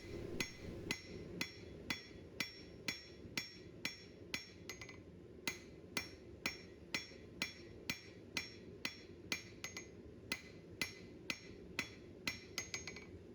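A blacksmith hammers a flat taper on an anvil, sharp ringing metallic blows in a steady rhythm of roughly two per second, with a brief pause midway, close and clear.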